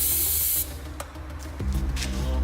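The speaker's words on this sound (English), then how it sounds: "Get some of this here spray boy." An aerosol spray can sprays onto car wiring in a loud, steady hiss for about half a second, then cuts off, leaving quiet handling sounds and a low rumble.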